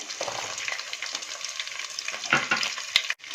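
About 100 g of small shallots fry with dried chillies in hot oil, giving a busy, crackling sizzle with a few stirring knocks near the end. It is close and steady, with no talking.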